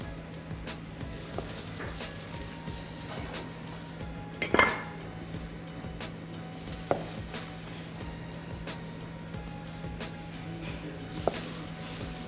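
Faint clinks of dishes and cutlery as a salad is spooned onto a plate, sparse light taps and one sharper clatter over a low steady hum in a quiet kitchen.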